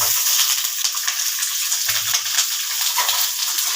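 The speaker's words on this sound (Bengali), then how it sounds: "ঝিঙেগুলোকে একটু ভাজতে হবে" Ridge gourd pieces frying in a pan tempered with five-spice, bay leaf and dried red chilli, a loud, steady close-up sizzle with faint stirring and no speech.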